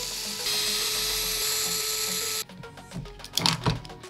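A small power driver whines steadily while backing screws out of the rear suspension and skid plate on an Axial SCX10-II RC crawler chassis, then stops, followed by a few close clicks and plastic rattles.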